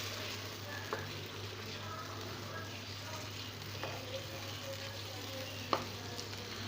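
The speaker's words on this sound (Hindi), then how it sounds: "इसमें मैरिनेट किया हुआ चिकन वो शामिल कर देंगे। इसको अच्छी तरीके से मिक्स कर लेंगे।" Marinated chicken for tandoori chicken masala fries in a pan with a steady, low sizzling hiss and occasional faint scrapes of stirring, quiet and without talk.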